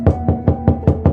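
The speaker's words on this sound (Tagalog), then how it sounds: "May naririnig akong kumakatok sa pinto ng bahay namin." Knocking on the door of a house at night, six evenly spaced, firm raps in quick succession, close and loud with no voices.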